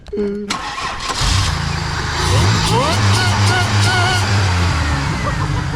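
A big-block 460 engine in a Ford F350 that sat for years fires up after a restart and runs loud and close with rough, rising revs over a steady idle, as people talk over it.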